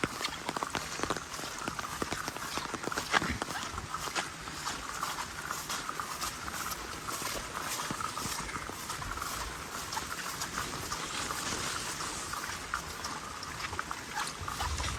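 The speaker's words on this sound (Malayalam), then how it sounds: "നല്ല അടിപൊളിയായിട്ട് മഴ പെയ്യുന്നുണ്ട്." Heavy December rain pours down in Malappuram, Kerala, amid flooding, a dense, steady hiss with scattered patters and splashes throughout, no voices.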